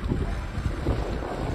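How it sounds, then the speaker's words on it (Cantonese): Strong wind gusts across the Tsim Sha Tsui harbour waterfront in Hong Kong, a steady, loud, buffeting roar that rises and falls, with a faint wash of sea and boats beneath. "其實都幾大風下㗎"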